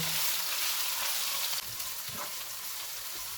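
Beef keema with onions and ginger garlic paste sizzling steadily in a pan over medium heat, a continuous loud frying hiss with faint stirring scrapes, no talk.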